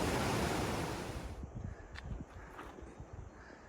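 Rushing water from a mountain river fed by streams pouring down a hillside, a steady broadband roar that is loud at first and then eases into a softer, even flow with scattered low thuds.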